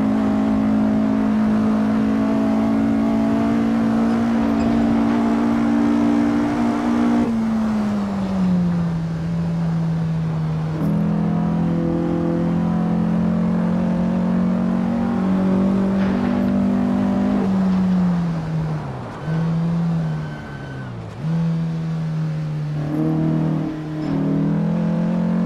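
A Porsche 356 in Assetto Corsa hums along at a steady engine drone that dips as it shifts or lifts, then swells again, with small fluctuations on a winding road.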